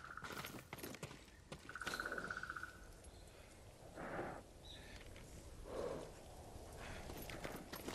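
A horse gallops in the video game Ghost of Tsushima, rhythmic hoofbeats under ambient crickets, with a tonal whinny-like call and faint mechanical sounds between.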